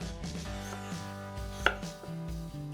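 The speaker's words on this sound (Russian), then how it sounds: "Таким методом нарезаем весь огурец." Kitchen knife cutting a cucumber into very thin slices on a board, a few crisp taps standing out over steady background music, with no talking.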